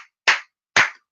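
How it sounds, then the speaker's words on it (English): Two sharp hand claps about half a second apart, each loud and close, alone with silence between them. "clap it up"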